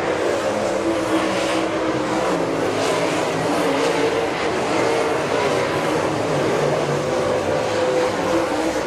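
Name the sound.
race cars completing a lap at Southern Raceway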